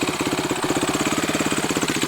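A 2007 Suzuki quad bike's engine runs steadily at a rapid, even chugging pulse, loud and close with no voices over it.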